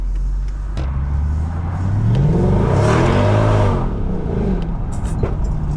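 Mercedes CLS 55 AMG tuned to 650 hp accelerating hard with wheelspin, a loud close engine roar rising in pitch and swelling mid-clip before easing back, with tyre noise underneath.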